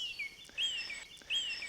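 Birds singing in the dawn chorus at Walney, with song thrush, mistle thrush and blackbird perched at treetops; repeated clear whistled phrases with a rising and falling sweep, in a steady rhythm at moderate distance, no talk.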